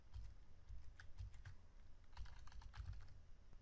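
Quick, light clicks on a computer keyboard in short irregular bursts, close and quiet, over a faint low hum.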